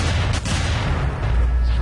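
Gunfire in a video game, dense rumbling shots and booms in a continuous loud barrage over a short stretch.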